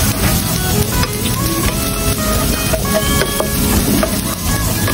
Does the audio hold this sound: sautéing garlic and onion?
yes